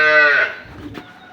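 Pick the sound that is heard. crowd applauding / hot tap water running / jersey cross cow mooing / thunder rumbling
jersey cross cow mooing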